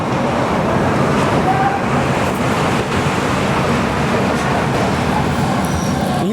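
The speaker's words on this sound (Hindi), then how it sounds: "तेईस मिनट की देरी से 11:23 पर हमारी ट्रेन निकली है जालना से" Amritsar Nanded Sachkhand Express pulling out of Jalna station, heard as a loud continuous rumble of wheels and carriages with steady rolling noise and no clear talk.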